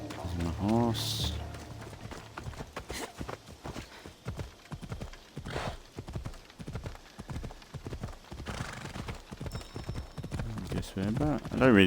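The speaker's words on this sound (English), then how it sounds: "There's my horse." A horse gallops in Assassin's Creed Odyssey, rapid hoofbeats clattering in a steady rhythm with neighs near the start and end and a whoosh early on.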